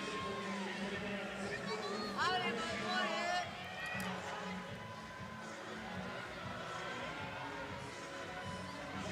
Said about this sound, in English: You hear the French people supporting Marum